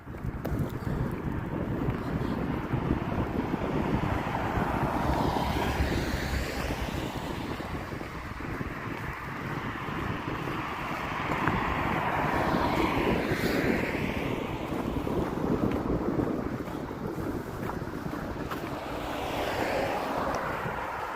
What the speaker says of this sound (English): the wind does not help at all when it's cold out